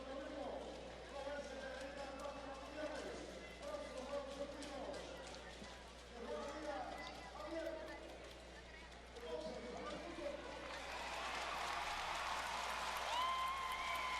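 Stadium crowd at an athletics meeting in Ponce applauding and cheering an athlete, rising waves of clapping and roar under a commentator's talk, swelling louder toward the end.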